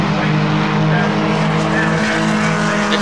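Formula Vee race cars in a 2012 festival final work through a turn together in a close pack of five, a steady loud droning engine roar with layered tones and some tyre scrub, continuous for the whole stretch.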